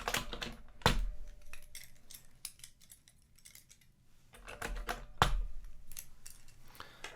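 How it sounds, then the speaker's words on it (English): Keycaps are pulled off a brand-new Model F Labs F62 Kishsaver keyboard, giving a run of small plastic clicks and rattles with two sharper, louder pops, close and fairly quiet. "So I'm going to pull these keys back up again."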